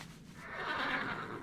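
A horse in World of Warcraft, a Pinto mount, lets out a single drawn-out whinny that rises and wavers, heard alone at moderate loudness.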